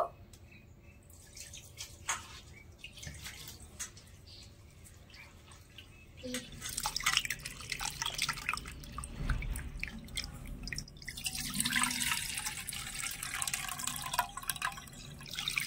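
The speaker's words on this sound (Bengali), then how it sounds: "এবারে জল দিয়ে চিড়েটা একটু ভালো করে ধুয়ে নেব।" Thick flattened rice (chira) being rinsed with water in a kitchen, with soft drips, splashing and sloshing that build louder midway and keep going.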